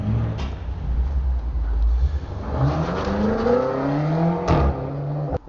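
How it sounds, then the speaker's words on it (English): A BMW M8 Competition engine rumbles and revs up, its pitch climbing steadily as it accelerates, heard close over a constant road roar. "Driving out in a brand new M8"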